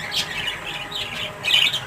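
Birds squawk among a flock of pet pigeons, harsh repeated calls close by, with a loud burst near the end and no talk.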